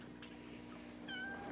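A cat meows once in a drawn-out, rising-then-falling call, fairly close and clear above a steady low hum from a freshwater aquarium setup.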